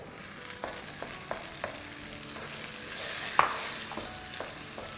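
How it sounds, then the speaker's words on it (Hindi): Cumin seeds crackling as they fry in oil with onions and tomatoes, a steady hiss broken by scattered small pops and a few stirring scrapes, close to the pan. "यहाँ ज़ीरा जो है हमारा क्रैकल होना शुरू हो गया है"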